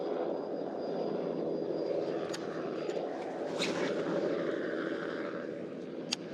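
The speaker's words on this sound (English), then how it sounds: "But you get a helicopter, of all things." A helicopter flies over a private lake, its steady rotor and engine drone holding constant throughout with no talk, while a few faint clicks sound nearby.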